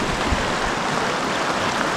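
The Upper Snake River runs high, a loud, steady broadband rush of fast water heard up close with no break and no voices.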